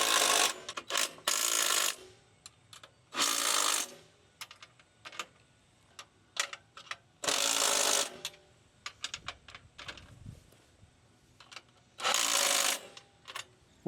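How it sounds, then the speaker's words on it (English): Impact gun driving bolts into rails: repeated short bursts of rapid rattling hammering, each lasting about a second, separated by quieter clicks and handling noises, close by. "Very thankful for an impact gun right now."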